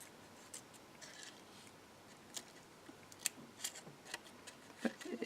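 Scissors cutting around the wings of a green card butterfly for a 3D decoupage project, faint close snips and rustles in an irregular run, louder toward the end.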